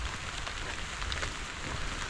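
Steady rain falls outdoors during a long walk, a dense, even hiss with low rumble, close and continuous with no talking.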